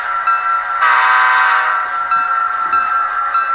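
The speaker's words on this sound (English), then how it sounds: "let's go ahead and blow the horn" A Bachmann F7 model locomotive fitted with a Blunami sound decoder sounds its horn in one sustained, loud chord blast lasting a few seconds, close and clear with no talking.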